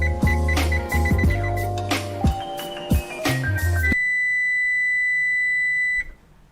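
Piano music plays, then stops abruptly as a single sustained high electronic beep rings out alone for about two seconds before ending.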